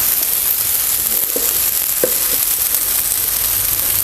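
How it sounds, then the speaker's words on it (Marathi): A flipped ghavan, a thin rice crepe with onion, tomato and capsicum, fries loudly on a hot pan in a dense, unbroken sizzle, with a couple of faint scrapes and no voices. "हे बाजूसुद्धा आपल्याला चांगलंसं भाजून घ्यायचं आहे"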